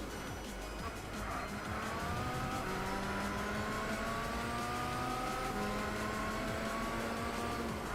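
A supercar engine in Gran Turismo 6 drones steadily and loudly throughout, its pitch rising gradually as it accelerates through gears, with no talk over it.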